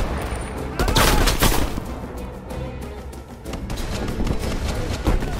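Shooters on a rooftop in Call of Duty: Black Ops Cold War fire loud, dense bursts of gunfire that overlap and come and go across the clip, with some shouting voices mixed in.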